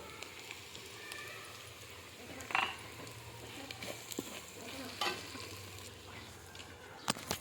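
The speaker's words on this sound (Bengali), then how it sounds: "রসুনটা একটু নেড়ে ছেড়ে নিচ্ছি পেঁয়াজের মধ্যে" Garlic stirred into onions frying in a pan, a faint low sizzle with a few scattered utensil scrapes and taps against the pan, no voices.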